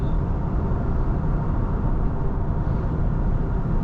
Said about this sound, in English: It's really windy today. You guys can hear the wind noise?